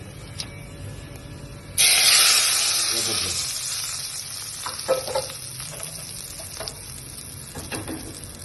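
Eggplant bharta mixture being stirred in a hot pan, a loud burst of sizzling and hiss that slowly fades, with scattered scraping stirs and clinks after.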